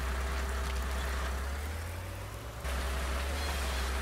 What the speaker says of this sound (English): The rain started coming down harder.